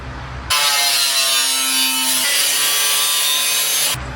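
A power tool cuts through a VW Beetle fender during a Beetle-to-BMW body swap, a loud steady grinding rasp that runs without a break for about three and a half seconds and then stops abruptly.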